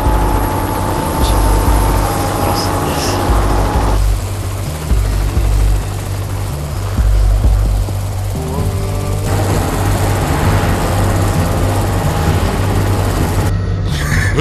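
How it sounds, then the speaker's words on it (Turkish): A helicopter passes close overhead with a loud, steady rotor thump and low engine drone lasting throughout, briefly dipping and surging in intensity, with a few faint voices underneath. "Helikopter var tepemizde."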